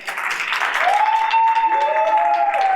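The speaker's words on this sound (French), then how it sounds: "applaudissez-le les amis" Audience applause for a participant on a studio show, a continuous wash of clapping with a sliding whistle-like tone rising over it midway.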